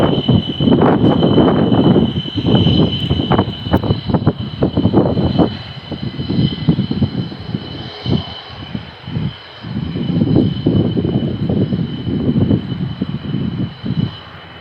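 A Bangladesh Air Force fighter jet, an F-7BG, roars loudly at close range on the runway at Shahjalal airport, a continuous heavy engine rush with a steady high whine and pulsing surges throughout.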